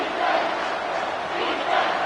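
A stadium crowd in a 2K25 football game roars steadily in a broad, sustained wash of cheering that swells slightly near the end.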